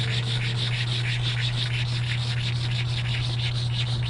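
Steady, continuous rubbing of a cleaning stone across an engraved stone surface to scrub off calcium deposits, a close, even abrasive scrub with a constant low hum beneath it.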